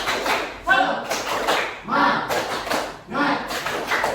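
Participants perform the tepuk semangat clapping chant as an ice-breaker, with several loud bursts of group clapping in a rhythmic pattern mixed with chanting voices, close and lively.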